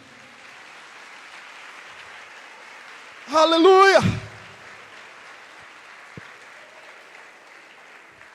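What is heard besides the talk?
congregation applauding in church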